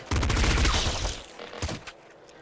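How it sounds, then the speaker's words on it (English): Rapid gunfire from the video game Nuclear Throne, a dense loud burst of shots for about a second, then a few scattered sharper reports that fade out. "Bullets."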